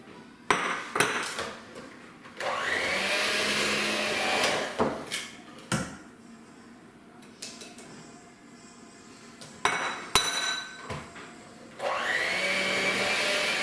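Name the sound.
electric mixer on low mixing flour into ricotta cookie dough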